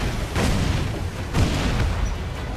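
Ship cannons fire in the naval combat of Assassin's Creed IV Black Flag, two heavy booming blasts about a second apart over a dense rumbling background of sea and battle noise.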